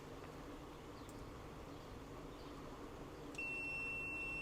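A Kaiweets KC602 clamp meter in continuity mode gives a steady high electronic beep that starts near the end over a faint background hum.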